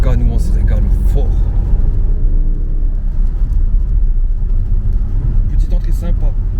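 An Audi RS7 on a test drive on a rainy road, a deep, steady engine rumble and road noise filling the cabin, with people talking over it.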